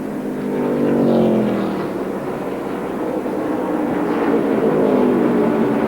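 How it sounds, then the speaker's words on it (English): Stock cars in a NASCAR Busch Series race at Colorado roar past after a crash, a loud sustained engine drone with rising and falling pitch as cars pass close by. "Brian Vickers racing for second spot"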